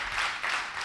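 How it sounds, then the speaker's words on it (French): Audience at a Guinean youth speaking competition semifinal claps for a contestant, a brief, steady burst of crowd applause heard from a middle distance. "Est-ce qu'on peut l'applaudir?"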